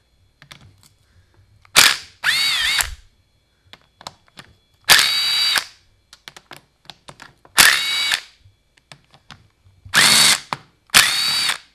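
Power tool, likely an impact driver, removing 10 mm reed bolts on a Honda CR125 dirt bike engine: five loud, close bursts of whirring and rattling, each about a second long, separated by quiet pauses with faint clicks.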